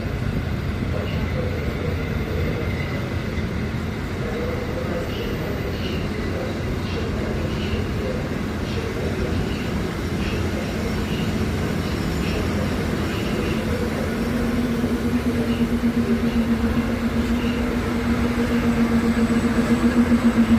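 A train at Poznań Główny station, heard as a steady low rumble with rail noise, swelling near the end as a tonal whine rises; faint station sounds sit in the background.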